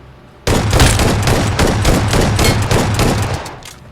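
Shotgun fire in a mobile shooter game: after a brief quiet start, loud rapid shots ring out in a dense, continuous burst that runs to the end, with no voices.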